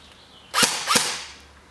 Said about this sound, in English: you'll fire your gun and visually get a bead on where your BBs are going